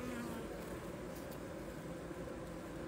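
Honeybees at an open hive as a new bee emerges, a dense continuous buzzing drone close by, steady and fairly quiet with no clear voices.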